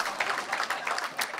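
A church congregation gives a short burst of applause and acclamation during a sermon. The clapping is brisk and fairly close for a moment.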